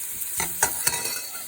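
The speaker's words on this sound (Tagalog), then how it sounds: "Gisa natin ang sibuyas at bawang." Onion and garlic sautéing in a hot pan give off a loud, continuous sizzle, broken by a few quick stirring scrapes close by.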